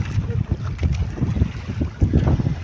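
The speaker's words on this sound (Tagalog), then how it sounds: "Mahangin." Strong wind buffets a microphone with a continuous low rumble and gusting roar, with faint water and boat-like noise underneath.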